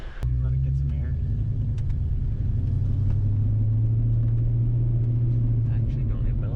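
A Ford Fox Body Mustang, running with freshly cleaned fuel injectors and a new PCV valve, rumbles loud and deep through a test drive. The low engine drone stays steady and continuous, and the rev swells slightly midway.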